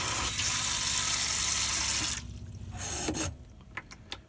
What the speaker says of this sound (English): You press this button and then it has a shower spray as well.